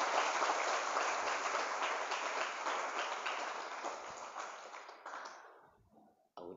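Audience applause at an indoor motivational event at an Islamic boarding school on Heroes' Day, a steady dense wash of clapping that slowly fades before cutting off near the end.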